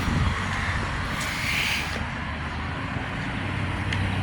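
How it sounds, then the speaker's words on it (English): A truck rolls past on a bridge close by while someone walks across it, its steady broadband road rumble and rushing air holding at a moderate level for several seconds with no speech over it. "Here comes a truck."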